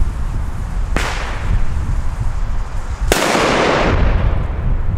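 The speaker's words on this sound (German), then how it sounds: "Und dann ein wahnsinns druckvoller Knall." A Blitzkartusche Cobra 2 P1 firecracker goes off outdoors: a sharp crack near one second, then a much louder, punchy bang around three seconds with a rushing echo that slowly trails off.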